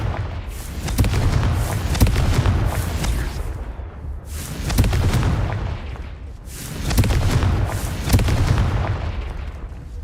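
Confringo fire-spell explosions in Hogwarts Legacy, heavy booming blasts arriving in repeated waves about every two seconds, loud and close, each swelling and fading, with no talk over them.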